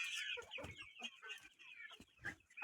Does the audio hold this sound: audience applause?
no